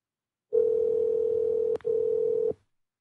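A steady telephone line tone sounds while a call is being placed, one long continuous note that breaks off briefly and then resumes for about a second more before cutting out, clear and alone.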